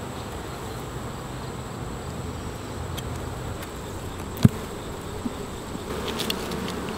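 Steady insect buzzing fills the air in an apiary, a dense hum of many honey bees with a few sharp clicks and knocks scattered through it.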